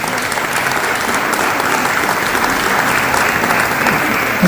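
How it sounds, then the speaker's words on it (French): An audience at a Moroccan cultural celebration in Saint-Denis, France, gives dense, loud, continuous applause for an association president, many hands clapping at once without pause. "que je vous prie de bien applaudir"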